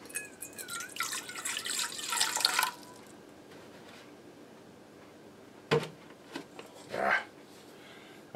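Water pours into a bowl on a kitchen scale for bread dough, a short trickling stream for a couple of seconds, then quiet with a few brief knocks and clatters afterward.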